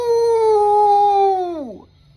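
A person's voice imitates a dog or wolf howl with one loud, sustained, steady tone that bends downward and fades at the end.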